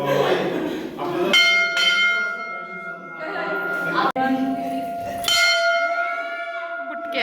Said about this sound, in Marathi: कधी पण ना बेल वाजवली ना की त्याच्या खाली थांबायचं असतं.